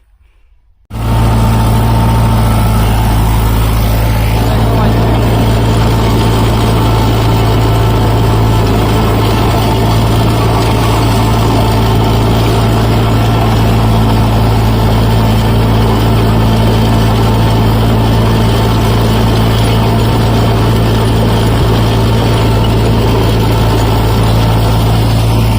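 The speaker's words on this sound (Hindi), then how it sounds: "रोटावेटर पर भी लोड पड़ रहा है ट्रैक्टर पर, क्योंकि मिट्टी बहुत हार्ड है इस खेत की" A tractor pulls a rotavator through hard field soil under heavy load, its engine a loud, constant low drone with a strong steady hum. It is heard close and uninterrupted after an abrupt start.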